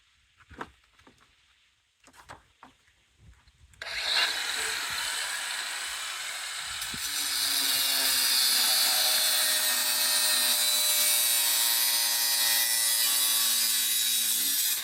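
Wood pieces being cut with a saw: a few light taps and knocks, then a loud, steady cutting sound that starts abruptly and runs unbroken to the end, growing slightly stronger partway through.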